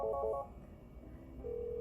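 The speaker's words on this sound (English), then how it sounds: "you're going to dial the extension that you want to conference in" A Polycom VVX desk phone sends a quick burst of three or four touch-tone beeps as an extension is dialed, then a short quiet stretch before a steady tone begins, all close and clear with no voices.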